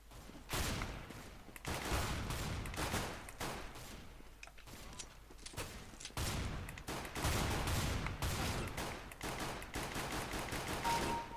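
Glock pistol firing in Counter-Strike: Global Offensive, with loud, dense shots cracking in quick irregular bursts nearly nonstop for about eleven seconds.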